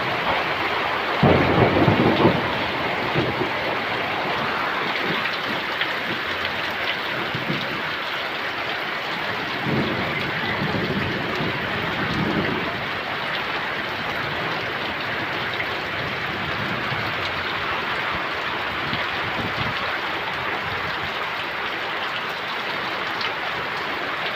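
Steady rain pours down with a deep rumble of thunder early on, the downpour continuing as a dense, even hiss with softer distant rumbles later.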